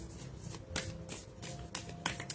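Tarot cards being shuffled by hand, a series of quick riffling bursts and soft taps close to the listener, with no talking.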